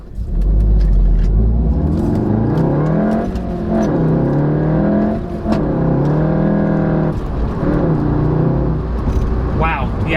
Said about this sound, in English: I probably should have skipped gears because of how fast I was accelerating